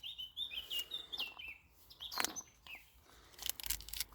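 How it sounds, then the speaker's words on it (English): Small birds chirp and tweet in repeated short, high calls, some bright and close, others fainter, over a quiet outdoor background. "Like bird music in the background, flowers."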